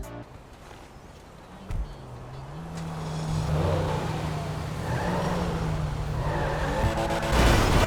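A Porsche-style sports car in GTA 5 Online revs and accelerates with a rising engine note and some tire squeal, loud and continuous with a final surge at the end.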